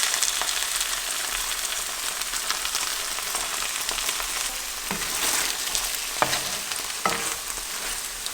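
Sauce hitting a hot pan and sizzling hard, a loud, steady crackle and hiss that persists throughout, broken by a few sharp clicks and taps near the end.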